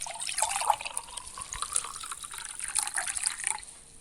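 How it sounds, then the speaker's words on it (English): Water pours from a jug into a glass, a continuous splashing trickle that rises and fades over a few seconds, close and moderately quiet, with no talk. "Tom, can you fill it with water from the jug for me, please"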